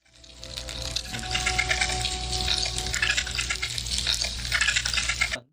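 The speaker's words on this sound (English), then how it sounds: "This is the sound taken by a high-frequency microphone in the area where the ants roam." Dense, fizzy crackling and rustling of roaming ants picked up by a high-frequency microphone, like countless tiny clicks, close and continuous for a few seconds with no voices.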